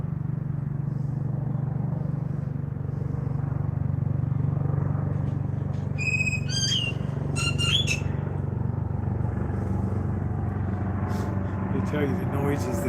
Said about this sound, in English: Yes, grackles are noisy birds.